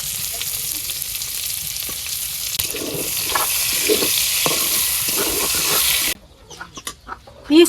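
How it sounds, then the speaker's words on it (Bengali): Chopped onions frying in a wok where fish was just fried, a steady loud sizzle with stirring scrapes for about six seconds before the hiss drops away to quieter clinks and movement. "পেঁয়াজ কুচি দিয়ে দিলাম,"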